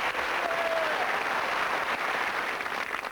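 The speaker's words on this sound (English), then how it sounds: "So a big round of applause to both teams, please." A studio audience at a Cluedo game show applauds both teams, sustained dense clapping from a crowd that stays even and loud throughout.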